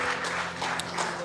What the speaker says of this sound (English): y'all give her a little hand clap there